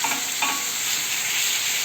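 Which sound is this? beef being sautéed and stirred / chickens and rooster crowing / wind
beef being sautéed and stirred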